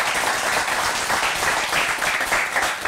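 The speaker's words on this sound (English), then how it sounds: "So please join me, give a round of applause to our panelists again." An audience at a panel discussion on the Anglophone Problem in Cameroon claps steadily, a dense even wash of applause from many hands throughout.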